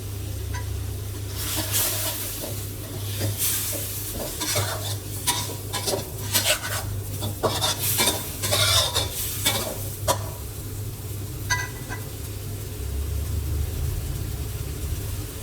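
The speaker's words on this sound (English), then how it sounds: "Stir it in and boil the ribs in the mixture for about 5 minutes or until thickened" Pork ribs are stirred in simmering choo chee curry sauce, a spoon scraping and clinking against the pot in steady strokes over a continuous bubbling sizzle and low background hum.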